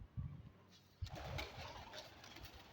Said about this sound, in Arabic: ذني الطيور هاي اللي تطير عندي، ذني 15 طير